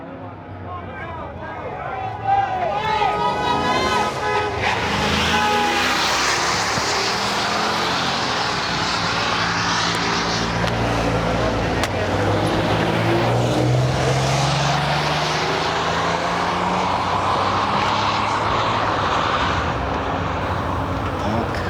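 A Pro Charger drag racing car launches down Famoso Dragstrip with a loud, sustained engine roar that holds steady for many seconds, with crowd and track noise mixed in.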